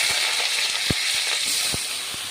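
Cut ridge gourd and potatoes fry in hot oil in a wok with a steady, bright sizzle, broken by a few soft pops and clicks.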